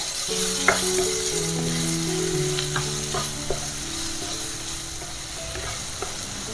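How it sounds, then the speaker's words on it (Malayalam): Chopped tomatoes fry in a pan for Kerala-style prawn roast, a steady close sizzle with occasional stirring clicks and scrapes, loud and continuous with no voices. "നമുക്ക് ഈ സമയത്ത് തക്കാളി അരിഞ്ഞതിട്ട് കൊടുക്കാം തക്കാളി നല്ലതുപോലെ നല്ല വാടി വഴണ്ട് ഇതിൽ കൂടെ ചേരണം കേട്ടോ"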